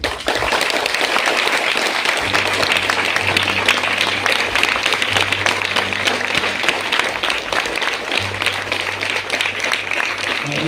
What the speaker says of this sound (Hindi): हम आपके लिए तालियां